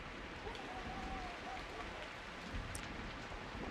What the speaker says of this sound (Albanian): po më kapi shiu e vetetima udhës